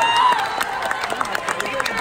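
Audience applause at a live Vietnamese music show, with dense, fast clapping from a crowd over a hum of voices, fairly loud and continuous.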